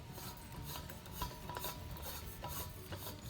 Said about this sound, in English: Now we'll thread this onto the other side of the fitting.